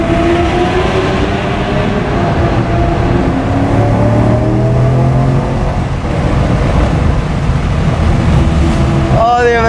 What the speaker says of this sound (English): the Aventador sounds so good in the tunnel. Oh, the downshift.